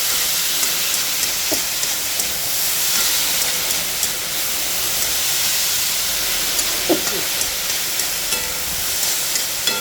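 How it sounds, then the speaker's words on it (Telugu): Steady, dense sizzling of spice tempering in hot oil, a continuous close hiss with a few faint clinks. "పోపు వాసన పట్టే వరకు ఒకసారి వేయించుకోవాలండి"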